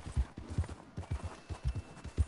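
Horse hooves clip-clop at a steady rhythm in the video game Red Dead Redemption 2, with about a dozen close, moderately loud low thuds over a faint ambient background.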